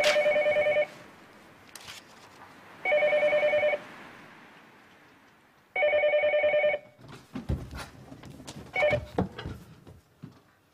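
A telephone in a 1993 Japanese drama rings in three long bursts, each loud and close, with quieter clatter and shuffling between the rings and afterward.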